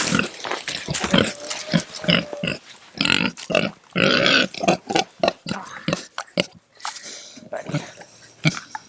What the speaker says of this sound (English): we come check on the piggies real quick because they're up and running around